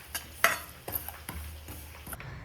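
White sesame and poppy seeds are stirred in a dry pan, with a handful of sharp scrapes and clinks of a spoon on metal over a faint crackle, quiet and close.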